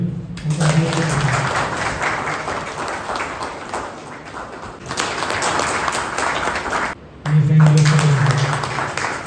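Applause fills the hall at a farewell ceremony honoring retiring police officers, sustained clapping from a crowd that swells and dips, with a short break near the end and a voice speaking over the opening and closing moments.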